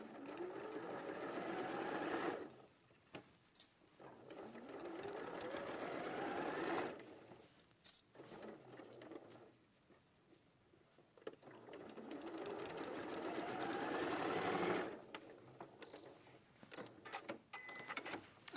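A sewing machine stitches a seam in fast, steady bursts, pausing briefly between runs, close and clear with no talking.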